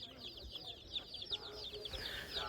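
Chicken at a market, giving a run of soft, fairly close clucks in an uneven rhythm over faint background bustle and a murmur of distant voices.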